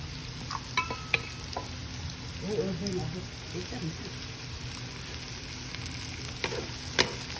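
Onions and carrots stir-fry in a pan for shrimp paste and egg fried rice, giving a soft steady sizzle with scattered scraping clicks of stirring, moderately close; a voice speaks briefly over it.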